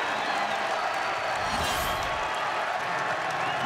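Basketball arena crowd in Cincinnati roaring and cheering during a college game against ECU, a loud, dense, sustained wall of noise with no break.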